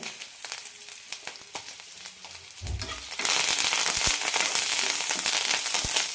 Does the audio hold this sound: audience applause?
no